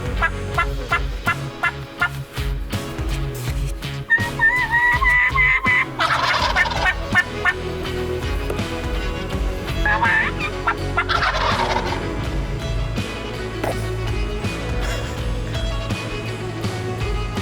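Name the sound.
wild turkeys gobbling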